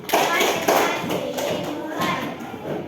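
A group of children and a teacher clap together in a rhythmic pattern of beats for a concentration clapping game, with children's voices mixed in, in a lively room.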